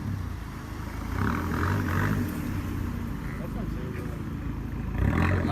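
Loud car engine rumble from a supercharged Camaro or straight-piped Genesis, revving up in swells around the middle and again at the end, close by, with people talking over it outdoors.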